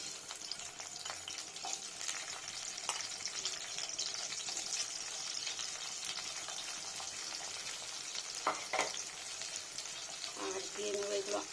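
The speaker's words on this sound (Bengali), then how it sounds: "এবার দিয়ে নেবো ডুমো ডুমো করে পেঁয়াজ" Diced onions fry in white oil in a pan for dry chilli chicken, giving a steady broadband sizzle throughout with occasional stirring clatter and faint background sounds.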